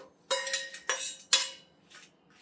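Fried dried red chillies, cooked for snake gourd karam, are tipped onto a plate with a metal spoon, giving three sharp ringing clinks followed by two softer taps, close and clear with no talk.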